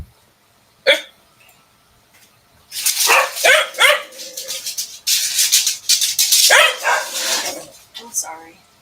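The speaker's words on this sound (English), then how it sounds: "Dogs." Dogs bark and yip in loud bursts indoors, a single sharp bark early, then a noisy stretch of repeated barking and whimpering, with voices talking over it.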